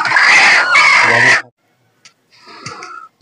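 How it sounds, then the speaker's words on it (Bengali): A desi hen settling onto eggs to brood clucks loudly and harshly for over a second, then gives a few fainter, broken clucks after a short silence. "একটি মুরগি এসে বসা শুরু করে দিয়েছে"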